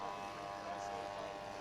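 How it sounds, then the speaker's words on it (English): Propeller buzz from a radio-controlled F4U Corsair scale model aircraft flying at an outdoor model aircraft show, a steady droning whine held at a moderate distance throughout. "An F4U Corsair taking to the skies."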